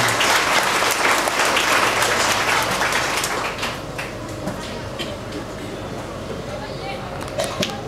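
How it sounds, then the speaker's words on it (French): A large crowd at a church celebration applauds steadily, the clapping dense and loud at first, then thinning out somewhat toward the end. "je vous demande de bien vouloir m'aider à les remercier par un vif applaudissement"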